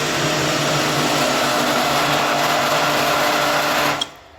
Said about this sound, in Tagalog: So, ito yung gagamitin kong pang-blender.